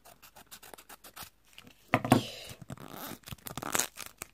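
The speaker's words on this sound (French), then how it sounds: "on va ouvrir un petit paquet, donc qui est toujours bien scellé" Sealed emoji card booster packet torn open from the top by hand, giving a loud crinkly rip of foil-like plastic followed by rustling handling, after quieter fiddling with the wrapper.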